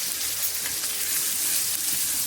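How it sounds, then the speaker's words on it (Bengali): Ginger and cumin paste with crushed green chilli frying on low heat in a pan, a steady close sizzle with soft stirring scrapes and no talk. "এবার আমি মশলাটাকে একদম লো আঁচে রেখে মশলাটাকে কষিয়ে নিচ্ছি।"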